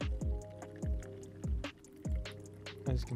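Water pours from a bottle into a taped container, glugging in a regular rhythm of about five deep, resonant gulps as air bubbles back into the bottle, close and clear with no talking.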